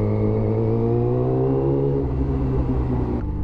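A motorcycle engine revs loudly and up close during a motovlog, a steady droning roar whose pitch shifts and then drops as the throttle changes, with no talking.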